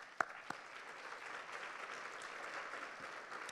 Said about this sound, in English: I'd like to give Mark and his team a round of applause